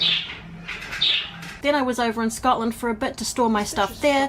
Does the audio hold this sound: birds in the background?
yes